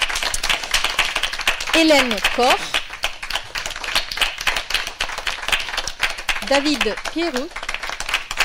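Audience applause at a public conversation event on popular culture, a steady wash of many hands clapping throughout, with a host's voice speaking over it twice.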